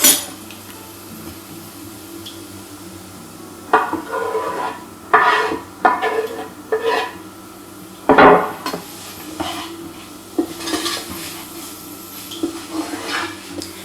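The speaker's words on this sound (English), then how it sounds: "I'm using the coconut oil and the aubergines, and we're going to cook those for a few minutes." Aubergines cooking in coconut oil in a pan for a prawn and aubergine curry, a quiet sizzle under repeated clinks and scrapes of a utensil stirring against the pan, with no one talking.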